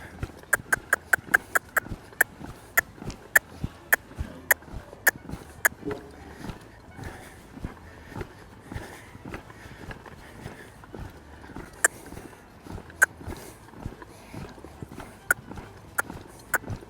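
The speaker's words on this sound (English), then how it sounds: "of course the horse just trots out" A young horse trots out, its hooves striking in a steady, fairly close rhythm of crisp clip-clops over quiet outdoor background noise.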